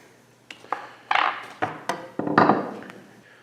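A hammer taps a piece of wood during mask making, about seven light, sharp knocks at an uneven pace, close by with a short ring after each blow.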